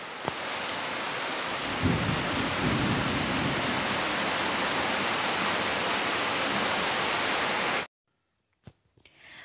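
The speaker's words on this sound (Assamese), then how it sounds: "এয়া ইমান জাক বৰষুণ আহিছে শুনিবচোন বৰষুণৰ শব্দটো ভাল লাগে নহয় জানো" Heavy monsoon rain pours down in a dense, loud, continuous roar that cuts off abruptly near the end, leaving near silence broken by a few faint knocks.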